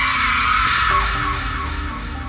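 A character in a Kamla horror game story screams in a loud, sustained yell lasting about two seconds, fading slightly toward the end.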